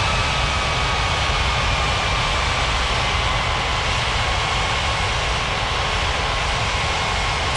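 An airliner's jet engines roar steadily during a takeoff roll in an air traffic control game, a loud continuous rumble and whine with no talking.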